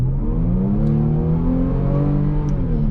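A 2017 Jaguar F-Pace 35T Prestige AWD accelerates in normal mode from inside the cabin, its engine note rising steadily in pitch as it pulls hard, loud and continuous with no talk.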